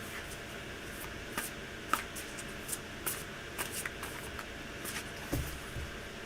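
Tarot cards being shuffled by hand, a faint, soft run of riffling and patting taps at an irregular rhythm with no talking.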